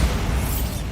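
The Bombarda explosion spell goes off in Hogwarts Legacy, a loud, dense, booming blast of low rumble and crackling debris that fills the whole moment.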